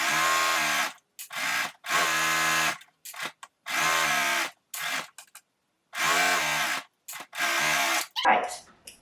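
A sewing machine runs in fast bursts while stitching the side seam of a slip, with several loud stop-start runs separated by short pauses and a brief rustle of fabric at the end.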